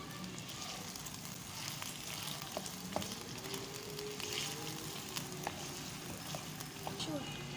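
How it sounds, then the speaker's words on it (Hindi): Chicken frying with garlic and ginger for a white karahi, a steady crackling sizzle with scattered pops and light stirring, continuous and moderately close. "इसको हम फ्राई करेंगे तकरीबन 1 मिनट तक, जब तक कि इसका लहसुन और अदरक का जो है वो कलर चेंज हो जाए।"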